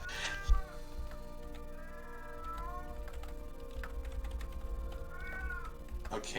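A cat meows twice, once near the start and again near the end, moderately clear over steady keyboard typing and low background hum.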